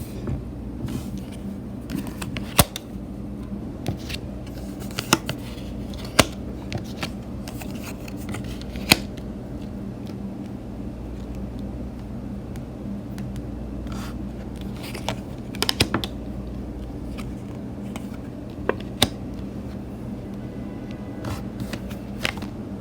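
Tarot cards are shuffled and drawn close by, soft riffling and sliding with scattered sharp snaps and flicks over a quiet background, no voices.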